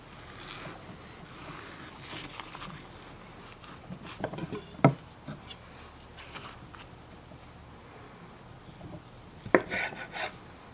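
A knife slices through a smoked turkey breast cooked on a Weber kettle, giving soft, quiet cutting strokes and two crisp taps of the blade on the board over low background noise.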